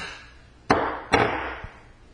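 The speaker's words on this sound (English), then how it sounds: "We can get the bolt slide out." Metal bolt slide pulled from a Mossberg shotgun during a field strip, heard as two sharp close metallic clacks about half a second apart, followed by a softer knock.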